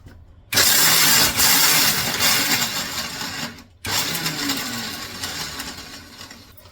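A kitchen mixer grinder whirs loudly as it grinds peanuts, running in two short bursts separated by a brief stop, its motor roar easing slightly toward the end of each run.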